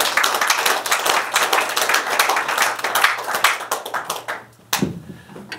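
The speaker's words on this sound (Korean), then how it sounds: "박수로 맞이해 주시면 고맙겠습니다" Audience at a Los Angeles forum on Syngman Rhee clapping to welcome a visiting pastor: dense, steady applause from many hands that holds for several seconds, then cuts off sharply, leaving a few scattered claps.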